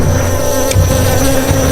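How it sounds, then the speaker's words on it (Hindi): Bees buzz continuously and loudly at close range as an animated sound effect in a Hindi horror story, a steady droning hum with slight flutters. "कुछ मधुमक्खी निकली और उन सभी के आसपास मंडराने लगी।"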